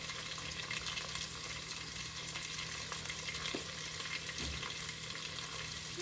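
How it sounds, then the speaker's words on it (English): Jollof rice frying in a pot gives a steady, faint hiss and crackle with soft stirring scrapes throughout, with no talking. "And stir it up."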